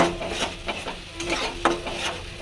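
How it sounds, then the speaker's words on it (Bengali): Spices being sautéed in a pan, a Bengali kosha, with steady sizzling and repeated scraping stirs close by, no voices. "এটা কিছুক্ষণ ভালো করে কষাবো"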